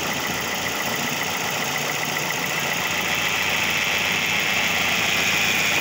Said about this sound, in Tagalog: Ayan, narinig niyo yung knocking sounds niya